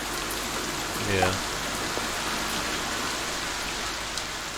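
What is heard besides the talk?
rain ambience in Pathfinder game session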